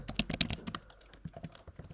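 Rapid, irregular clicking of keys on a computer keyboard during coding, with crisp nearby keystrokes arriving in quick bursts and short pauses.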